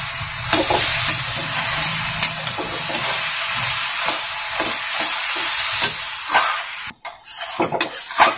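Shredded cabbage and green chillies sauté in a pan with a loud, continuous sizzle and hiss, punctuated by spatula scrapes and clinks against the metal that grow sharper and more broken toward the end.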